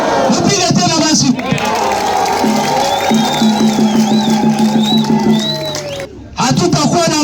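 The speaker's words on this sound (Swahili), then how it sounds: "Si shangwe kubwa? Mpige tena basi." A large crowd at a public gathering in Rutshuru cheers and shouts loudly for several seconds. Voices blend into a dense roar before it breaks off near the end.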